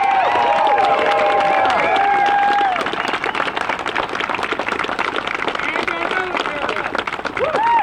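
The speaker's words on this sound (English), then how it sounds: "let's give a big round of applause for all of these brave men and women" A crowd at a rally backing police and military applauds and cheers loudly, dense clapping that swells and carries on, with a voice over it at the start.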